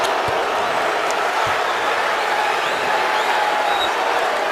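A basketball arena crowd at an Iowa vs Wisconsin game makes a steady, loud roar of murmuring and disgruntled noise that fills the whole stretch, with a few faint thumps underneath.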